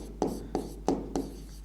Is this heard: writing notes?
yes